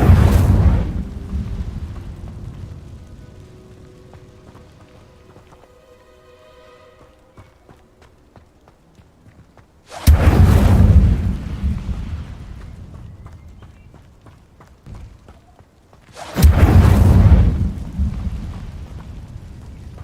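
Two loud whooshing bursts of the Incendio fire spell from the Hogwarts Legacy video game, each flaring up suddenly and then crackling away, separated by a quieter stretch of low rumbling ambience.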